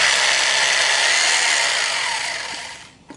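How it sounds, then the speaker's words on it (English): A hammer drill with a 3/8 inch masonry bit whines loudly and steadily as it bores into masonry, then winds down and stops. "you're going to need a hammer drill and a 3/8 inch masonry bit"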